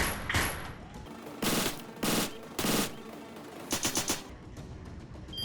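Gunfire in the VR shooter GUNCLUB VR comes in loud, close bursts: a few single shots, then three rapid volleys, and a quick automatic string near the end.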